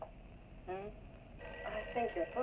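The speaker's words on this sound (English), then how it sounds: "I think your phone is ringing." A telephone rings in bursts in a 1959 office setting, fairly faint, with voices speaking around it.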